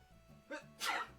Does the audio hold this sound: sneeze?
yes